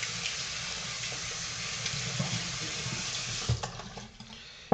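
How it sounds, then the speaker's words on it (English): Hot water runs steadily from a tap to wet and warm a purple-handled mink synthetic shaving brush, a constant close splashing hiss that ends in a brief clatter. "some nice hot water."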